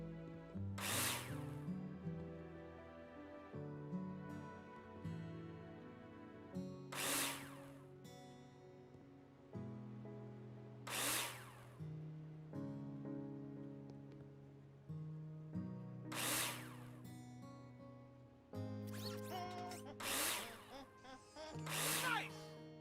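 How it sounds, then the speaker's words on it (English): A power drill driving screws into plasterboard in the construction video game Builder Simulator: five separate whirring bursts, each a few seconds apart, over soft background music. "Take your drill out and screw them in."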